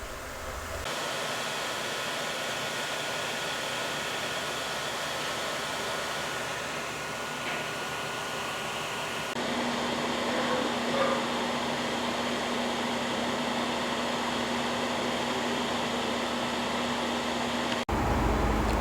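A machine hums in a steady, loud broadband whir through a long print job for a boat transom door part, with a tonal hum entering partway and no speech.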